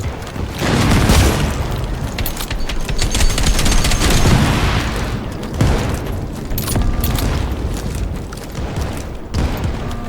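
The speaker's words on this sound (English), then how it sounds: "I'm just going to go ahead and maybe shoot a few people here and there" Continuous gunfire from shooting enemies in the video game Outpost Infinity Siege, City Ruins 5 level: dense, loud bursts of automatic fire with booming impacts that run almost the whole time, with no talking.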